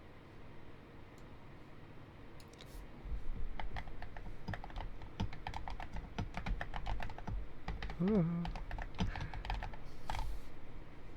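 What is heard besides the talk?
computer keyboard typing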